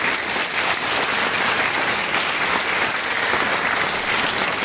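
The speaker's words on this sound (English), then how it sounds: "A round of applause for Ms." Loud, steady applause from an audience at a school spring concert featuring strings, concert and jazz bands, a dense wash of clapping sustained throughout with no talk.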